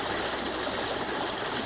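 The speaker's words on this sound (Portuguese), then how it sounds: "O barulho da água parecia um sonho." A forest stream flows steadily near waterfalls, its continuous broadband rush and trickle filling the space at moderate level with no voices.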